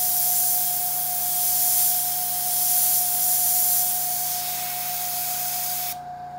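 Airbrush spraying paint onto parts of a Tamiya 1/48 F-14A model, a steady close hiss of air carrying two thin sustained tones, which cuts off abruptly near the end.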